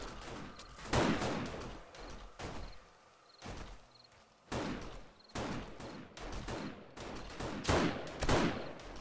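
Bursts of gunfire from the survival shooter 7 Days to Die ring out during a horde night. Loud repeated volleys come in uneven clusters with short gaps between them, fairly close and with no talk over them.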